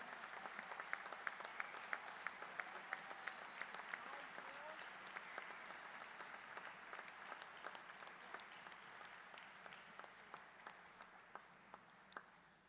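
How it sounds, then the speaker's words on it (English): Audience applause fills a hall at a 2023 induction ceremony, honoring a plant softball team; steady, dense clapping from a large crowd runs throughout, fairly distant and even, with a few sharper individual claps standing out. "please stand for a round of applause"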